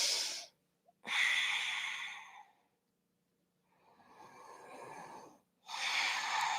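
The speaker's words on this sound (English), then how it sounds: "every time we're twisting, we're exhaling" Breath sounds during a yoga flow, several strong audible exhales in a steady rhythm, each a long breathy rush separated by short pauses of silence, close and fairly loud.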